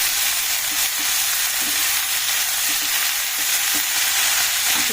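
Vegetables, with eggplant and fenugreek leaves, fry in a pan with a dense, steady hiss and faint scraping stirs under it, close and continuous, with no talking.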